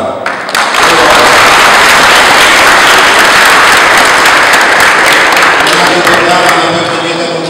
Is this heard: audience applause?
yes